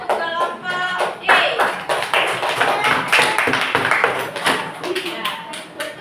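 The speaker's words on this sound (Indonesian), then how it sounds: "Ayo tepuk tangan untuk kelompok D." A classroom of students claps for a student group, giving a dense, steady patter of many hands lasting several seconds, with voices mixed in underneath.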